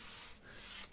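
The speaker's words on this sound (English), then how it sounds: "I just run the sandpaper itself a few times and it rounds it over very, very easily" Sandpaper rubbed a few times along a wooden tail-fin edge of a model airplane, a quiet, steady rasping stroke close by.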